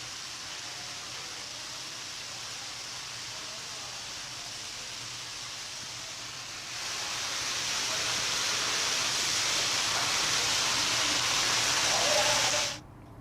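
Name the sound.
water gushing from a burst pipe in a hospital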